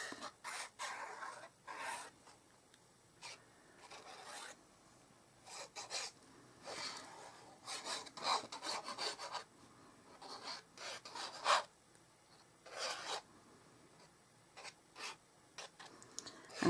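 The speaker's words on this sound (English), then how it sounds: "And I do try not to make that scratchy noise" Paper card layers being glued down make intermittent scratchy rubbing bursts, short and irregular, separated by quiet gaps and heard close up without speech.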